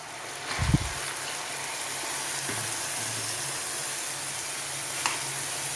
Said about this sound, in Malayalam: വാഴപ്പിണ്ടിയിലുള്ള വെള്ളത്തിൻ്റെ ആ പൊട്ടലൊന്ന് നിൽക്കുന്നോടും വരെ നമുക്കൊന്ന് വറുത്ത് പോരാം